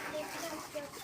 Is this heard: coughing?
no